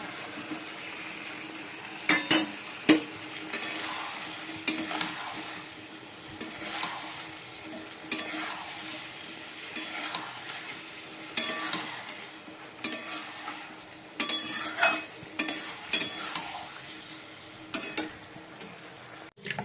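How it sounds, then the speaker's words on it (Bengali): Fried chicken pieces stirred into onion, capsicum and tomato, chilli and soy sauces in a pan, with steady sizzling broken by repeated scraping and clinking strokes of a spatula, close and moderately loud, no talk. "চিকেনগুলো দিয়ে দেবো এবার, চিকেন ভাজাগুলো।"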